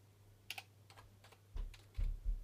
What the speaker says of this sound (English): Oh, I wish I could type.